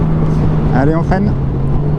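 A Honda Goldwing 1800 DCT motorcycle brakes hard, its engine tone dropping through a short series of descending pitch sweeps over a steady hum and wind rush, heard close from the rider's position.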